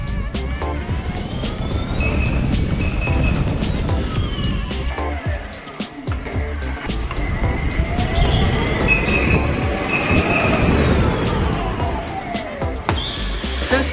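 A Gotway MSP electric unicycle accelerates hard off-road: its motor whine rises and falls in pitch over a loud, rough rumble of wind and terrain noise, with brief dips and surges.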